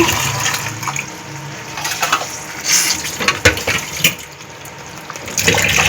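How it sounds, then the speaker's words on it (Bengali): A little water poured into a pan of stuffed pointed gourd with cashew paste, a loud splashing gush that rises into a bubbling hiss with a few knocks of stirring. "একটুখানি এটা সেদ্ধ হওয়ার জন্য অল্প একটু জল দিয়ে দিলাম"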